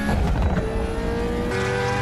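Race cars roar off the line at the start of a street race in the Need for Speed film, a dense, loud engine blare with tire noise that holds steady, then shifts to a higher, brighter pitch partway through.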